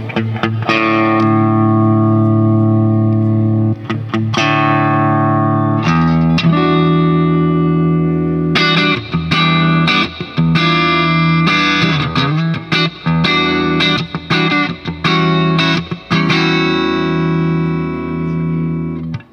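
Sustained electric guitar chords ring out with a clean tone and reverb tails through a Hughes & Kettner amp, then quicker strummed and picked notes follow, loud and close.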